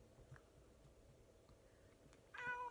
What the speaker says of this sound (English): sorry, my cat got in the way.